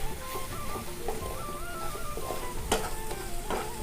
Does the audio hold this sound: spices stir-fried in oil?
yes